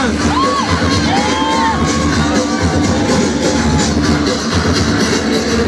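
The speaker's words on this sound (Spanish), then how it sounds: "Aplausos Ensenada, esas palmas para apoyar a Juice" A street crowd at the Ensenada carnival parade cheers and whoops continuously, loud and close, with shouts and yells over steady background music and noise.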